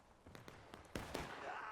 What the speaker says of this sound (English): they just don't even notice the gunshots.